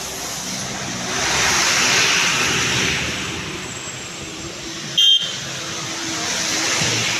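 Traffic moves through heavy rain in Shimla, a broad wash of rain hiss and passing cars rising and falling, cut by a short beep near the end.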